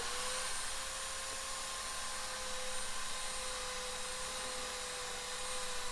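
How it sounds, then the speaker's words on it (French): A steady high-pitched whine of a running belt sander holds constant throughout, with a faint hum underneath and no talking. "Le travail à la ponceuse à bande permet de gagner énormément de temps"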